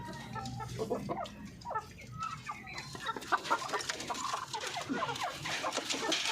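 Darag native chickens in a backyard farm cluck and murmur continuously, several birds close by in a busy, overlapping flock chatter.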